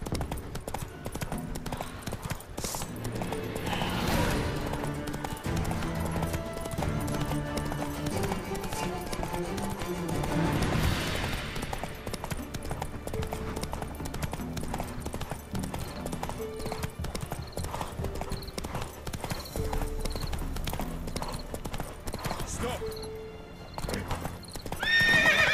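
Roach, a horse in The Witcher 3, gallops with rapid rhythmic hoofbeats and gives loud whinnies over a busy game soundscape.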